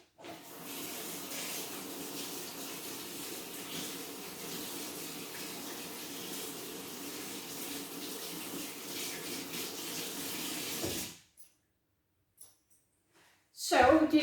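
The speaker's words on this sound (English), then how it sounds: "So I'll just wash my hands." Hands are washed under a running tap, a steady close rush of water for about eleven seconds that stops abruptly, followed by brief handling clatter and a short loud knock.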